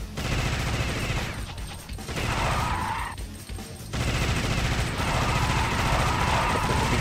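Plasma gun in the Alien Shooter game blasting at aliens, loud dense volleys of shots in bursts separated by brief gaps, with no voices.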